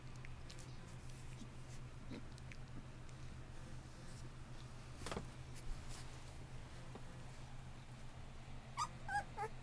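Newborn bullmastiff puppies whimper and yip softly in short, scattered cries over a steady low hum, with a brief louder yelp midway.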